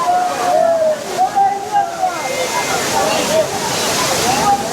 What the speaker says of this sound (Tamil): குற்றாலத்துடைய மெயின் ஃபால்ஸ் இது